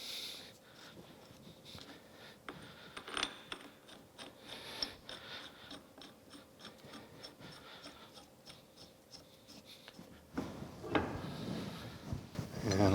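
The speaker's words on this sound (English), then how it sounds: "The shell just goes together. 2 bolts to tighten it up." Ratcheting clicks and metallic rattles come from bolts being tightened on the gear housing shell of a New Haven metal planer under restoration. They arrive in close, irregular bursts, with a louder clattering run near the end.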